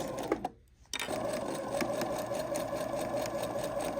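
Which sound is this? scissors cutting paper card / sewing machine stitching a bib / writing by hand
sewing machine stitching a bib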